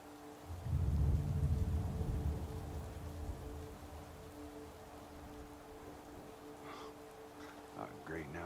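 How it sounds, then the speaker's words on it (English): Rain and thunder in the video game Madden 18: a deep rumble of thunder rolls in over steady rain, then fades to a soft patter; voices speak briefly near the end. "now it's raining"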